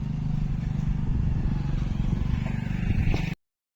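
A tractor engine chugs steadily at close range as it is driven on a farm, a continuous low rumble with rattling clatter lasting about three seconds before cutting off abruptly.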